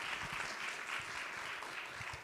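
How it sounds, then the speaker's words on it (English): An audience applauds an award winner at a leadership forum, giving faint, distant, continuous clapping that holds steady throughout with no one speaking. "Let's give her a big round of applause."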